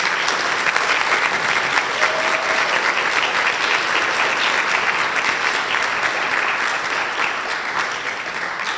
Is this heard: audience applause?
yes